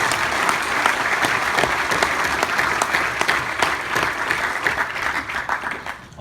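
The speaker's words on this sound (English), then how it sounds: "Let's give them another round of applause." Sustained audience applause at an award event, a dense, loud roar of many hands clapping continuously, easing slightly toward the end.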